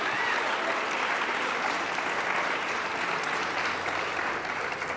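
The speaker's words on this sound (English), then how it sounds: "How about one more quick round of applause of thanks and appreciation?" An audience at an International Overdose Awareness Day gathering in Winnipeg, Manitoba gives a sustained round of applause, dense steady clapping from a crowd holding at an even level for the whole stretch before tapering slightly.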